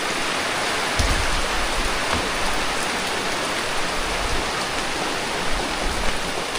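Heavy rain pours steadily in a dense, unbroken hiss, loud and close, with a few heavier thuds of water landing on a surface and no voices.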